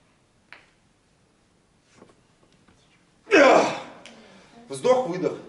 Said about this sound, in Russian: Вздох-выдох.